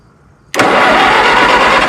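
A Minneapolis Moline Z tractor engine cranks and catches abruptly after a quiet moment, then runs loudly and steadily at a close, even idle.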